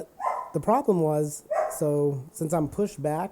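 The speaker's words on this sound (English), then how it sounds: "Excuse that dog" A dog barks and yips repeatedly in the background while someone talks over it during an offroad podcast.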